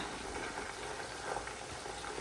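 Small chunks of pork fry in hot oil, giving a steady, dense sizzling hiss that stays even and fairly quiet throughout with no talking.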